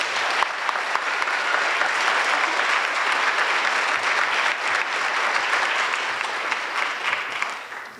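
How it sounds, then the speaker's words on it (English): Loud, close audience applause at a middle school spring concert, a thick continuous clatter of clapping that stays strong across the whole stretch. "So give them a big round of applause."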